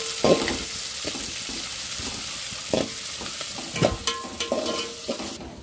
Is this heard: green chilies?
yes